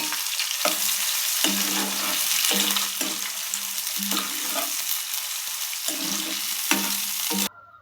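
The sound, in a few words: onions and green chilies frying in hot oil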